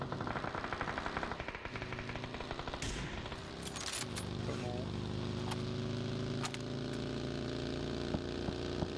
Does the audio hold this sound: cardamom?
no